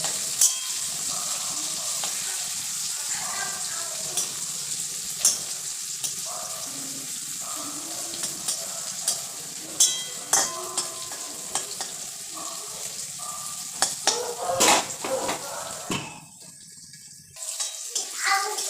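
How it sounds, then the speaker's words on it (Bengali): Jackfruit pieces frying in a pan, with a steady crackling sizzle throughout and repeated scraping, knocking stirs of a spatula against the pan, close up and loud. "কাঁঠাল ভাজা কোয়াগুলো ফুলে ফুলে চলে গিয়েছে একটু ঢাকা দেবো ঢাকা দিয়ে দিয়ে ভাজবো"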